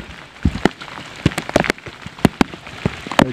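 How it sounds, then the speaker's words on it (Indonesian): Heavy rain pours on Mount Sumbing during a hike down to the basecamp, a constant hiss broken by loud, close drops smacking a nearby surface in irregular bursts, with no voices. "Banjir, hujan."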